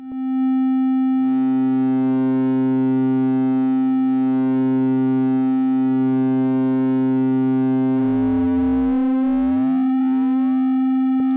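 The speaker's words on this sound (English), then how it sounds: "we can still hear the original pitch of our oscillator, but we're kind of getting this noise over the top of it" AE Modular 555 oscillator module with linear modulation: a steady pure tone that holds its pitch, with swooping chirps and noisy sweeping partials joining over the top partway through, loud and alone.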